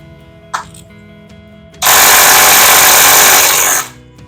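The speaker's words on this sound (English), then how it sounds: "40mm Torx, we'll pull that out." Air impact tool buzzing loudly for about two seconds as it removes a 40mm Torx bolt from a 4L80 transmission case in a workshop, preceded by a brief hiss of air.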